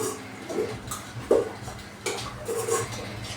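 A spoon scrapes and knocks inside a pot of vegetable rice, with a few soft clinks and scrapes spread unevenly over a few seconds and one sharper tap near the middle.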